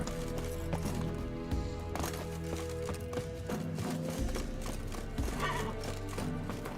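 Geralt's horse Roach galloping in The Witcher 3: Wild Hunt, with rhythmic hoof thuds and clip-clops under game music and ambience, moderately loud and continuous.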